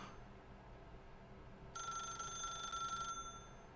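Telephone ringing in the video game The Stanley Parable, a single electronic bell ring lasting just over a second over a low ambient hum, fairly close and alone.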